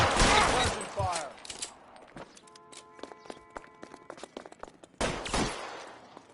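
A burst of gunfire opens the scene as police fire on a suspect, a loud rapid volley, followed by scattered clicks and footsteps, then another sharp burst near the end.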